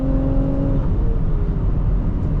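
A 2024 Nissan Rogue SV engine under full throttle: a steady, loud, close drone from inside the car as it accelerates, with a tone that drifts slightly in pitch.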